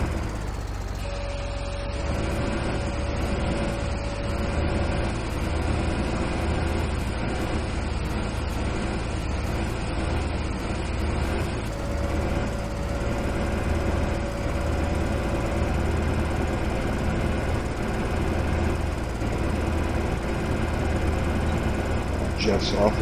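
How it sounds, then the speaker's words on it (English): A tractor engine labours uphill in Farming Simulator 15, a steady, loud mechanical drone running continuously from start to finish with a sustained tonal hum layered over it. "let's see if this tractor's gonna go up there"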